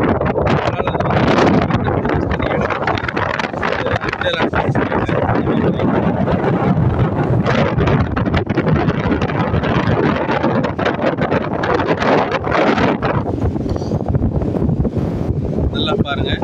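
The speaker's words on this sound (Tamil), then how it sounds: "நல்லா பாருங்கள், அலை எப்படி அடிக்குது பாருங்கள்" Rough sea waves crash and roar continuously on an Andaman island shore in strong wind, with loud wind buffeting the microphone throughout and a heavy, unbroken wash of surf.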